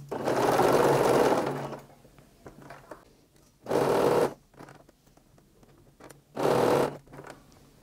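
A sewing machine stitches stretchy shapewear fabric in three separate bursts, a long run followed by two shorter ones, with a close, steady mechanical whirring and quiet pauses between them.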